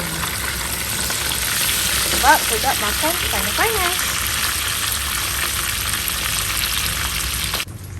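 Steady crackling sizzle of two pieces of chicken frying in hot oil, close and continuous, with a person speaking briefly over it.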